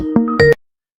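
A phone ringtone plays two short electronic tonal bursts, close and fairly loud, then stops abruptly and leaves silence.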